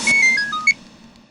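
A short electronic phone ringtone plays a quick descending run of bright notes, then a final blip, close and clear with no talking.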